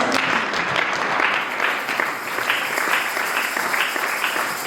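A church congregation applauding the Lord fills the space with steady, dense clapping that runs without a break, loud and close, with no voices rising above it.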